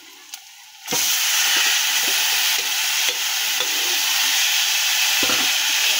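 Boiled taro leaves added to a pan with hilsa fish head, cooking over low gas with a steady, close hiss and sizzle that starts abruptly and holds throughout.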